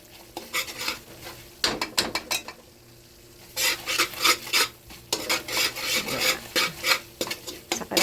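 Onion sautés in a pan, with bursts of scraping and stirring from a utensil against the metal over a soft background sizzle, broken by a short pause.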